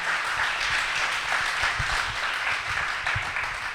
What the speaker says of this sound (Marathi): त्या सगळ्या शास्त्रज्ञांच्यासाठी आपण एकदा जोरदार टाळ्या वाजवूया.